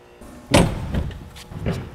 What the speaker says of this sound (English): so I'm going to open the door